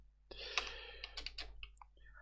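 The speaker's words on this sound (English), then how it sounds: "So let's start typing." Quick clicks on a computer keyboard come in short irregular bursts, light and close, with brief pauses between runs of keystrokes and no talking.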